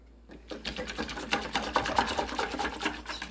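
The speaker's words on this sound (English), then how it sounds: "now we are going to beat up our eggs" Eggs are beaten into milk for butterscotch pudding, a rapid rhythmic whisking and clattering against the bowl, close and fairly loud for a few seconds.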